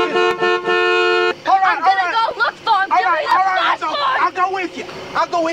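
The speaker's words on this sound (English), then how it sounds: "I'm going to honk the horn" A car horn gives a sustained, loud blast, then people talk and shout excitedly over one another while the horn scene plays out in a 1974 horror film.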